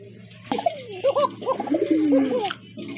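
A pair of Koka pigeons coos close by, giving several rounded, rolling coos in a steady run over a constant high electrical whine.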